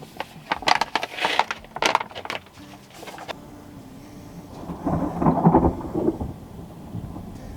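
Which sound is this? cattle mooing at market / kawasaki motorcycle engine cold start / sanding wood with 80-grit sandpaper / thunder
thunder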